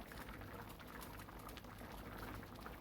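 Salisbury steak patties simmering in a mushroom and garlic sauce, giving a steady, close bubbling and sizzling hiss that carries on evenly throughout with no pauses.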